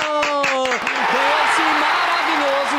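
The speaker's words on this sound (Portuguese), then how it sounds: "Ganhou! Aplausos!" Studio audience applause on a Brazilian TV show, steady dense clapping throughout with a host's voice and tonal music over it.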